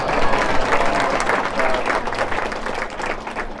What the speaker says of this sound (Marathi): टाळ्या पण वाजवा